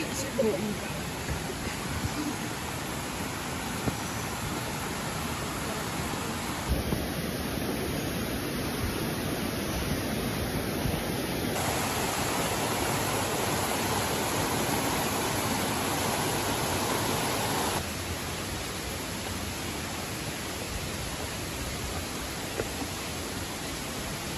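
Rushing water from a river near the Curug Lawe waterfall in Semarang, a broad, steady roar heard continuously on a forest trek, loud and close, with a person talking over it at times.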